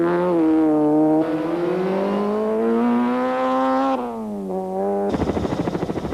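A rally car at speed on a stage of the 1995 Castrol International Rally in South Africa, its engine loud and close, revving with a climbing pitch. Gear shifts break the tone twice, then a rough, rasping burst of engine noise finishes the clip.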